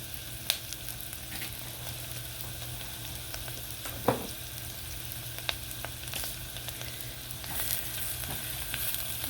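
Pineapple gravy simmering in a pan on the stove, a soft continuous sizzle with occasional faint clicks and a single sharper clatter midway, no voices.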